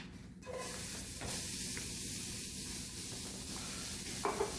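Onions sautéing in hot oil in a pan, a steady broadband sizzle with faint stirring scrapes, continuous and close throughout.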